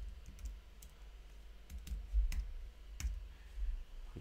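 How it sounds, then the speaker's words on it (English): Soft clicks from a computer keyboard as someone types, irregular taps spaced over a few seconds, quiet and close with no talking. "So now if we type something here,"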